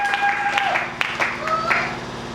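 A church congregation applauds and calls out in acclaim, scattered claps and voices rising together at moderate volume, with tonal singing or shouted praise running through the noise.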